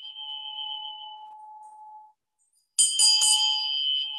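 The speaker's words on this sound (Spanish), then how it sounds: "Esta campana." A metal bell rings out with a bright, sustained tone, fading briefly to silence before a second loud strike with a sharp attack and shimmering overtones that linger.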